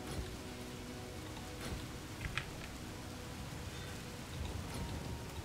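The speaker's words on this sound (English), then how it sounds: "Now, this rain is kind of annoying." Steady rain in the city-building game Cliff Empire, a dense even hiss of falling drops that stays constant throughout with no talk over it.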